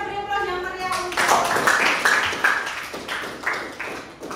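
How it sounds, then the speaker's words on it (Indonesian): Classroom applause for a student, a burst of clapping rising after a spoken opening and continuing with uneven rhythm, voices heard along with it. "kita bisa beri aplaus yang meriah untuk."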